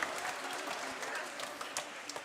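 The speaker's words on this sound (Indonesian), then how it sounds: "Kita beri tepuk tangan untuk teman-teman kita" A congregation at a children's Easter Mass in a church claps for the children's choir. The applause is faint and distant, a soft even patter with no voices over it.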